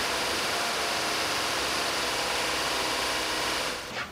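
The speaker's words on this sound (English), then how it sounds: "And I'm going to raise the RPM." Car engine running with RPM being raised, a steady broadband whir and hum that stays close and even before easing slightly at the end.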